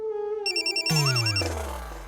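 Electronic phone ringtone for an incoming call, a short melodic tone sequence that jumps to a louder, brighter burst and then fades, heard alone without talk.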